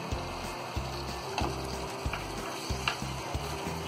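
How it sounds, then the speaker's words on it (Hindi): Tomato puree frying and being stirred into a masala base for dhaba-style egg masala, a steady sizzle running throughout with repeated scraping stir strokes and low clunks, close and alone with no talk. "ये डाल देंगे और इसे अच्छी तरह भून लेंगे"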